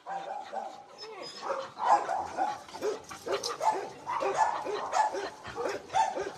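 Several dogs bark and yip at a dog shelter, a busy overlapping chorus of close, repeated barks with some whimpering, while a person speaks over the noise.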